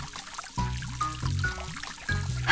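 Water trickles and pours through a pipe in a children's science app game, a soft, wavering flow heard in several short stretches alongside gentle game tones.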